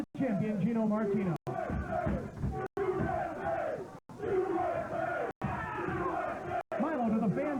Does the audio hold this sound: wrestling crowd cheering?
yes